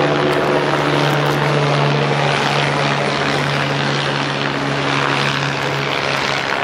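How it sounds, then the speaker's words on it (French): About three helicopters circle overhead around a town during the Tour de France, a continuous thumping rotor hum, steady and fairly loud, with no voices. "il y a des hélicos qui tournent depuis maintenant environ 20 minutes autour de la ville"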